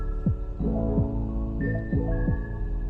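A Cirrus SR20 G7 engine runs at taxi power, around 1200 to 1300 RPM, as a steady, low, throbbing drone with regular pulsing beats.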